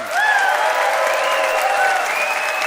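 A studio debate audience claps and cheers for contestant Julie Kim, a dense, steady wash of applause with crowd voices mixed in, loud and sustained throughout.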